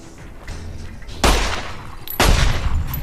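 Pistol fire in the video game Fallout New Vegas: two loud, close gunshots about a second apart, each followed by a lingering noisy tail.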